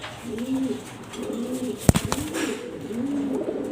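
Several pigeons, a mated pair of the Chuital Gola breed, coo in repeated low rolling phrases close by, with a brief sharp knock or wing clap in the middle.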